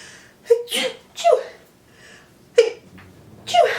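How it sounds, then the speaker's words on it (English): A person sneezes close up, several sharp nasal bursts with brief gaps between them, each ending in an abrupt puff of breath. "I gotta sneeze"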